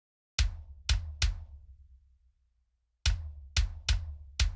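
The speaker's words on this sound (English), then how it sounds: "So the kick alone sounds like this." A solo EQ-processed black metal kick drum hits three times in quick succession, pauses, then strikes four more times, each punchy thump decaying quickly with a sharp click on top.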